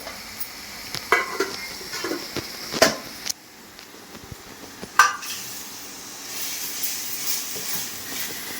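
Chicken pulao ingredients, onions and garam masala fry in a pot with a gentle hiss, interrupted by several clanking stirs of a spoon before the sizzle settles into a steadier, louder simmer.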